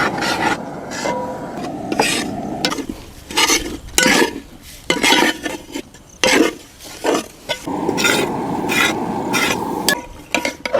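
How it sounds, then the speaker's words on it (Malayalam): Gram flour roasts in a heavy uruli pot for a large Mysore pak. A utensil scrapes and stirs it in repeated rasping strokes, close and fairly loud, with short pauses between them. "അപ്പം അതുവരെ നമുക്ക് നന്നായി വറുക്കാം."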